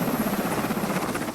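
A Nepalese helicopter flies through Chinese airspace near Everest on a climber recovery, its rotor blades thumping in a steady, rapid rhythm over a continuous engine drone, moderately loud and unbroken throughout, with no voices.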